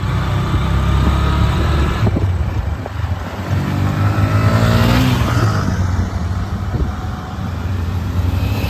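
A car drives past outdoors, its loud, steady engine and road roar swelling to a peak midway before easing off, with no voices.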